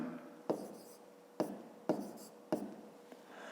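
Pen writing on paper, four distinct tapping strokes each followed by a short scratchy scribble, close and quiet, with no talking.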